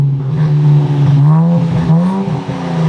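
Nissan Z with an AWE exhaust revving up close, a loud deep droning rumble that rises and falls in pitch over a few seconds, with no voices.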